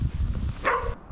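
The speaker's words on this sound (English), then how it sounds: "Oh, set the dog off." A dog barks once from inside a house, a short muffled woof heard at a doorstep amid faint outdoor background noise.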